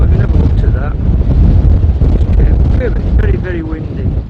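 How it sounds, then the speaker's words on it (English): Strong gusting wind roars across a microphone on the Ingleborough summit path, a loud continuous buffeting rumble, with voices talking faintly underneath. "the wind is absolutely relentless"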